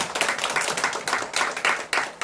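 Church congregation clapping during a Sunday worship service after a member is welcomed to communion, a brief burst of steady rhythmic hand claps, moderately loud, with no voices over it.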